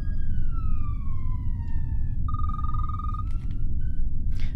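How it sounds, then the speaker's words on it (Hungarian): A wailing emergency siren outdoors rises and falls through the whole stretch, steady and fairly loud over a low rumbling background, with a brief sharper electronic tone partway through. "A sziréna nem a játékban van, hanem itt kint."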